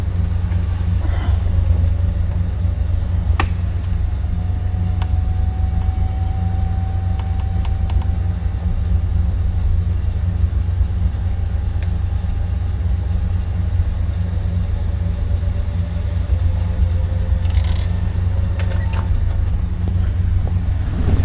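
A 1966 Oldsmobile Ninety-eight convertible idles with a steady, loud low rumble throughout, while the power top's motor whines and creaks through its cycle with a few clicks and latch clunks over the engine.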